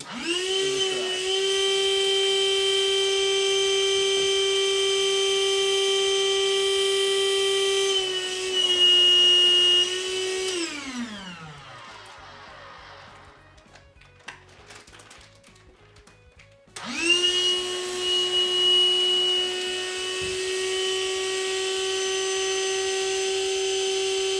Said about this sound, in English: we're going to see what we can do in vacuum packing some clothes here